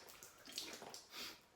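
Rubbing alcohol poured onto a tile floor to lift glue residue, a soft splashing, hissing pour with brief surges, fairly faint and close.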